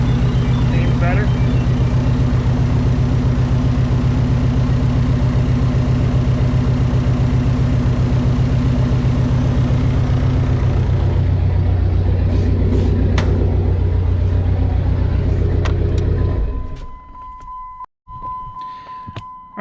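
Steady, low rumbling idle of a Dodge SRT-4 engine running lean holds for most of the clip before cutting off, with a person talking over it.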